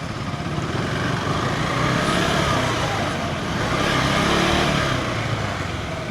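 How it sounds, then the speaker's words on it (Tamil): Dense road traffic rolls past near a bridge construction site in Hosur, a continuous loud roar of car, truck and motorbike engines with swelling passes and revving, no speech over it. "ஏன் இவ்வளோ டிராஃபிக் ஆகுதுன்னு தெரியல."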